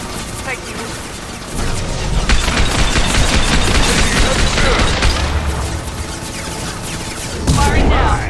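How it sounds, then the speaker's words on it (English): Gunfire in the Mass Effect 2 video game, loud sustained bursts of weapon fire mixed with booms and impact crashes, with voices heard over the fighting. "Firing now."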